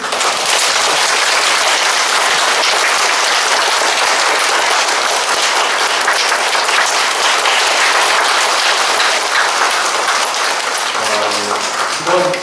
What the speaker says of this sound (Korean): 우리 다시 한번 큰 박수 한번 드리겠습니다.